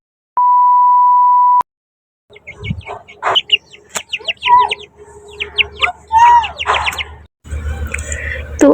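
Nafi, a pet bird, chirps and calls in quick, varied bursts after a single electronic beep, the calls close and fairly loud with short pauses between them.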